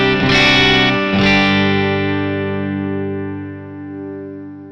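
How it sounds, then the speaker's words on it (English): A clean electric guitar through a Vox AC30 amp into a Blackback 30 4x12 cabinet, with reverb and delay: two strummed chords in quick succession, then a long ringing decay that fades slowly over several seconds. "we're gonna start with a clean sound. There's some reverb and delay. It's a Vox AC30 run through 4x12"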